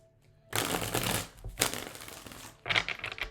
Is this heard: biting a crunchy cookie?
no